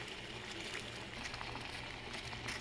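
Coriander seed decoction boils on a stove: a steady, faint bubbling hiss runs unbroken throughout, close and even, with no voices.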